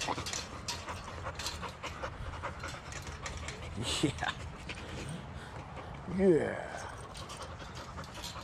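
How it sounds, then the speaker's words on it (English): Dog panting with brief whimpers close by, a steady rhythmic breathing under bursts of background noise, with a person talking briefly over it. "You're a good dog. You're a good dog. You're good dogs too."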